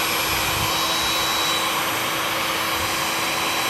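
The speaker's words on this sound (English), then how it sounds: "Hopefully it'll go pretty easy with that new heat gun." Heat gun blowing on its high setting at 400 degrees while stripping putty in a 2008 Ford E350 van, a steady, close airy roar with a constant faint whine throughout.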